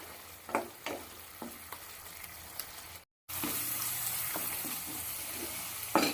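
Cumin, chili and tomato sautéing in oil for a small-potato curry give a soft sizzle with a few stirring taps. A short gap breaks it, then a brighter, steadier hiss follows, quiet and close.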